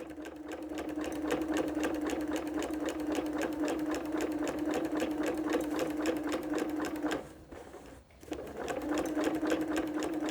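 Sewing machine stitching quilting lines on a T-shirt rag quilt, a fast steady mechanical whir with one brief stop near the end before it starts again, close and alone.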